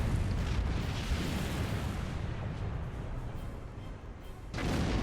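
Starship torpedo fire in the space combat game Star Trek Online: a loud, rumbling blast that fades over several seconds, then a second burst near the end.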